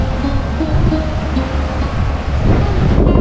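Storm wind on Mousuni Island, strong gusty blowing with heavy low rumble buffeting the microphone, near and continuous with a rushing surf-like texture.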